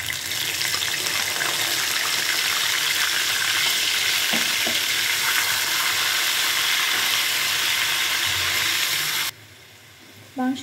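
Marinated chicken pieces sizzle and hiss loudly in hot oil in a pan for chicken khichuri, a dense steady frying roar with a few faint scrapes, cutting to near quiet near the end.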